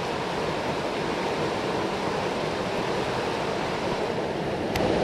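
The Lehigh River in Pennsylvania runs fast and high, giving a dense, steady rushing roar of moving water that stays loud and even throughout, with no voices.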